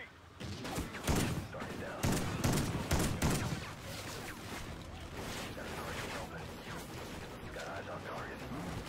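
Gunfire rings out in the Call of Duty: Ghosts campaign, with loud overlapping bursts of rapid shots in the first few seconds that give way to a continuous rumble of combat noise.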